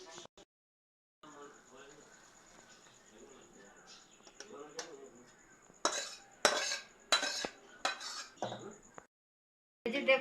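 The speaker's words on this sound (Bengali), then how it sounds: "তো সবজিটা ঢেলে নিচ্ছি।" Potato curry scraped from a pan into a serving dish with a metal spoon: a run of sharp clinks and scrapes, growing louder toward the end, amid a quiet kitchen with faint background chirping.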